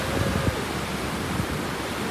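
Ocean surf rolls in at Huntington Beach, California, heard as a steady, fairly loud broadband wash of breaking waves with wind rumble, continuous and without voices.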